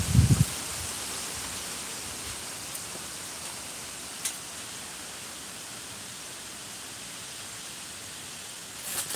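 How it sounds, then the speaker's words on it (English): A strong gust of wind sweeps through trees, producing a broad, steady rushing hiss that fills the whole stretch, with a few faint knocks and rustles along the way. "look at that big old gust of wind from behind."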